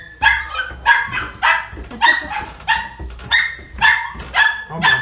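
Golden retriever puppies bark repeatedly in sharp, close yips and bow-wows at a rescue, about ten bursts in quick, uneven rhythm over a quiet background.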